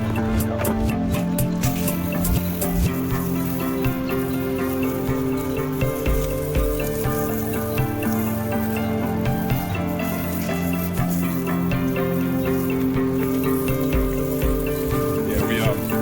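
A stout soft wash surfactant mix sprays onto a large, algae-covered deck in bad shape, making a steady hiss and patter of liquid hitting wood that runs continuously at moderate level, with a faint murmur of background noise.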